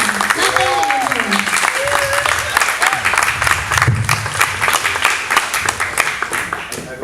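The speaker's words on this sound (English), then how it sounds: "Please put your hands together." A live audience applauds as a poet takes the stage at an Under 1 Roof reading, dense sustained clapping with a few cheers and brief voices over it, fading slightly toward the end.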